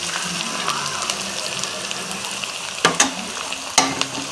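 Garlic paste sizzles and fries steadily in hot oil with bay leaf, chilli and onions. A few sharp clinks and scrapes of a spoon against the pan punctuate the continuous crackle near the end.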